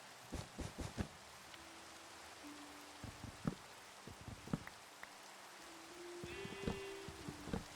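Rain falling in a blocky survival video game, a steady hiss of drops across the whole clip with scattered clicks and thuds, faint animal bleats, and a brief buzzing near the end.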